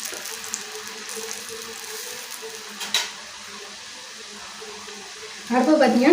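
Garlic thattai, flat rice-flour crackers, are slid into hot oil for deep frying, giving a steady soft sizzle with faint bubbling throughout and a louder crackling burst near the end as the dough hits the oil.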